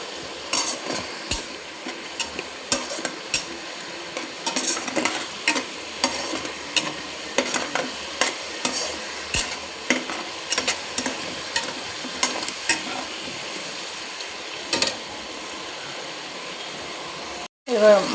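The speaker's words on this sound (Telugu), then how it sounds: "మనకు అల్లం వెల్లిగడ్డ ఫ్రై అయ్యింది." Ginger-garlic paste frying in a pan, a low continuous sizzle broken by frequent sharp scraping and stirring clicks of a utensil over eighteen seconds, ending in a brief louder clatter.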